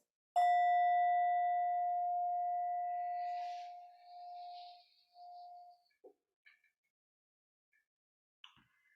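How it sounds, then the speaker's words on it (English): A meditation bell is struck once to open a practice session: a clear, pure ring that sustains and slowly fades over several seconds, followed by faint small knocks and rustles in a quiet room. "So I'll just offer the bell to begin practice, to signal the beginning of practice."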